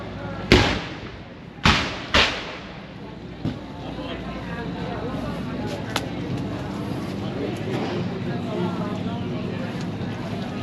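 Three loud cannon booms at Fort Jackson in quick succession, each with a short echoing tail, followed by a fainter thump amid outdoor festival crowd chatter.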